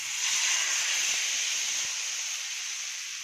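Dosa batter made from semolina hitting an oiled hot tawa gives a steady, bright hissing sizzle that holds level throughout, close and continuous with no voices.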